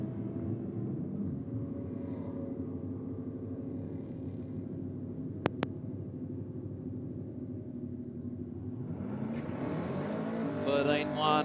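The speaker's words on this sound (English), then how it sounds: "this nitrous-assisted Commodore out here in the Aeroflow lane" A nitrous-assisted Holden Commodore drag racing at Sydney Dragway, its engine holding a loud, steady drone with a sharp pop midway and a rising surge near the end.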